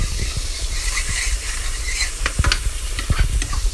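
Garlic toasting in a hot pan for spicy Asian noodles with shrimp and scallops, crackling and sizzling loudly up close while a utensil scrapes and stirs, with sharper pops and clicks toward the end.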